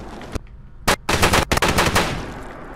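Rapid automatic gunfire from the Reaper weapon in modded Fallout 4, a short isolated shot followed by dense, fast bursts of loud, sharp reports with brief gaps, no talking.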